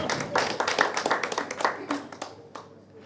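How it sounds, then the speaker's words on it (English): An awards-session audience gives a short round of scattered applause, individual claps audible and irregular, thinning out toward the end. "Yes, you can applaud."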